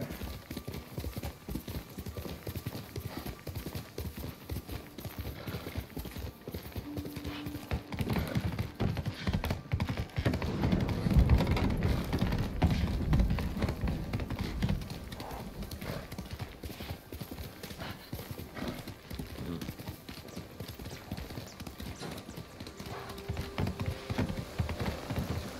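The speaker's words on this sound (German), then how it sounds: "Da können wir das Pferd nehmen." Rapid rhythmic hoofbeats of a galloping horse in the samurai video game Ghost of Tsushima, continuous clip-clop running the whole time, with a brief whinny and mild swells in loudness, no talking.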